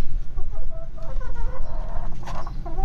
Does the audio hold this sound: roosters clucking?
yes